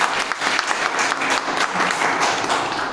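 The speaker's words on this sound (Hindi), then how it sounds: "इश्तियाक सर के लिए भी जोरदार तालियां होनी चाहिए।" A crowd claps loudly and continuously, dense applause filling the whole stretch without a break.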